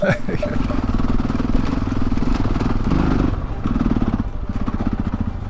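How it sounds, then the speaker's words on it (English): A motorcycle engine runs steadily and loudly close by on a ride through the Bulgarian mountains, with a rider talking over the rumble. "I'm gonna ride my motorcycle"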